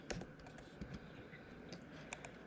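Faint, soft keystrokes on a computer keyboard as an equation is typed, an irregular sequence of light clicks up close in a quiet room.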